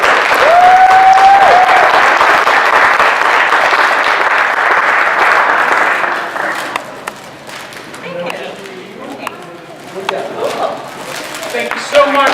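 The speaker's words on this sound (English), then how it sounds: "So they owe a huge round of applause to this organization." Guests at a Cub Scout Blue and Gold banquet break into loud, dense applause with a brief whoop, then the clapping fades after about six seconds into scattered claps and murmuring voices.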